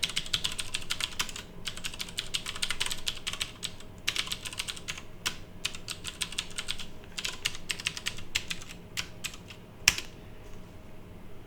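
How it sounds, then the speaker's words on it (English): A password is typed on a computer keyboard in close, irregular bursts of clicking keystrokes with brief pauses between groups. "I am surprised I typed that password correctly."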